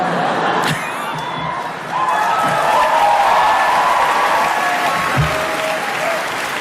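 An audience at a baccalaureate address claps and cheers loudly, a dense sustained burst of applause with a few shouts and whoops, dipping briefly before building again.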